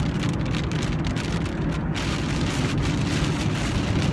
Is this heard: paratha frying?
no